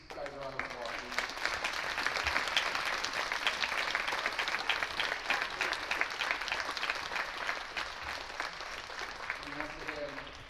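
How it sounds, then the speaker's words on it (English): Schoolchildren and guests clap for veterans at a school Veterans Day presentation, a steady crowd of hands applauding for about ten seconds, with speech audible faintly at the start and end. "Boys and girls, will you give these guys a round of applause"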